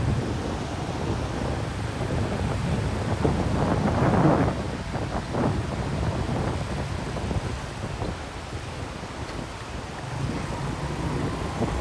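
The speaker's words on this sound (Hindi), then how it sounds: "आप देख करें दरियाए अस्तोर को कितनी ज़ोर से जो है नीचे बह रहा है" The Astore River rushes and roars steadily below a mountain road in North Pakistan, a broad continuous wash heard during a motorbike tour, mixed with wind buffeting the microphone and no voices.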